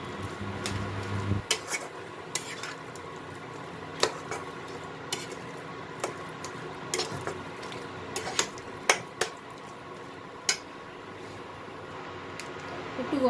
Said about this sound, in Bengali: কচুটা ভালো মতো মশলার সাথে মিশিয়ে নিতে হবে।